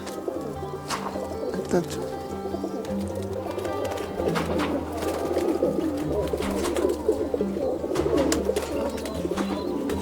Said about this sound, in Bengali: আমার ঘরে কিছু বেস্ট কোয়ালিটি জ্যাক পায়রা, সানপুরি ময়না জ্যাক।